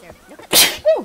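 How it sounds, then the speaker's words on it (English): A single sharp human sneeze bursts out after a brief breathy intake, followed by a short vocal sound, close and fairly loud. "I gotta sneeze."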